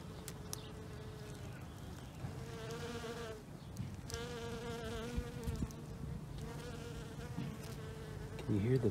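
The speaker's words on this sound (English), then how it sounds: "there are bees in there pollinating already" Bees buzz around early spring blossoms in a Zone 5 garden, a faint, steady droning hum that rises and falls as the insects move close and away, with quiet outdoor background.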